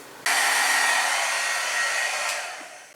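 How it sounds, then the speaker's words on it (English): A handheld heat tool blows hot air to dry glue on a fabric pocket scallop. It starts abruptly as a close, steady whirring hiss, runs alone without speech, and eases slightly toward the end. "I'll hit that with my heat tool just to make sure it's dry."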